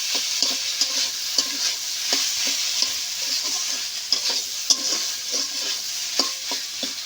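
A spoon stirs and scrapes a paneer and potato filling seasoned with salt in a hot pan, sounding as repeated close knocks and scrapes over a soft continuous sizzle.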